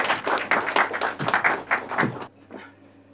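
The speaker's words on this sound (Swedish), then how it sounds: "Stor applåd upp på scen Anita Berger." Audience clapping at a poetry reading event, a loose group of hands with distinct claps that thin out and stop near the end, leaving a few faint sounds.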